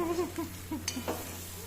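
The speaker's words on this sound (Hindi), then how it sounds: "इसके लिए अपन ने बॉईल करने के लिए रखा, हाँ, तो 5-10 मिनट अच्छे से भून लेते हैं।" Drumstick masala is stirred and fried in a pan, a brief close scraping and sizzle with a few faint tonal sounds over it.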